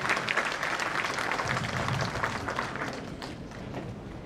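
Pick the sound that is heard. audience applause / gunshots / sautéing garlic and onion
audience applause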